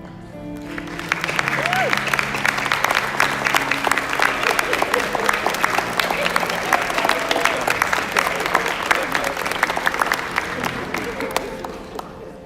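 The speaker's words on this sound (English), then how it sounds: "Can you all stand one more time so we can give you another round of applause, please?" Sustained audience applause at a Class of 2021 senior recognition ceremony, dense steady clapping from a large crowd filling the whole stretch, with a few faint voices mixed in.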